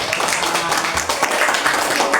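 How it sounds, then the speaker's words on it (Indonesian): A classroom group claps after a student team's presentation during a teacher training session; a loud, close, busy patter of hands runs for about two seconds, with no speech over it. "Mari kita beri tepuk tangan."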